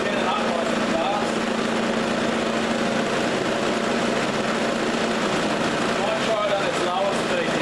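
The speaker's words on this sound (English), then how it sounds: "Certainly spinning up nice and fast." Old lathe's electric motor running fast after a belt adjustment, a steady close whirring hum with a broad mechanical whine that holds even throughout.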